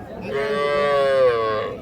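A cow with a calf at a cattle market gives one long, close, loud moo lasting under two seconds, with faint market noise behind it.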